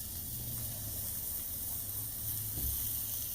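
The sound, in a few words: ribeye steaks searing on a Blackstone griddle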